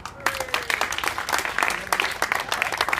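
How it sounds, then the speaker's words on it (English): An audience applauds architect Richard Hewson at the official opening of an extension. The clapping is brisk and steady and runs for a few seconds, and a brief voice is heard at the start. "Special clap of applause for Richard Hewson"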